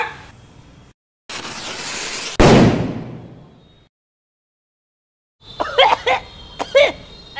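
A large firecracker bomb bursts during Diwali celebrations, a loud close blast with a long crackling decay, preceded by a sharp hiss and followed after a pause by people's voices.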